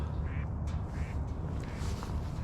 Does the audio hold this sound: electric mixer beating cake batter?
no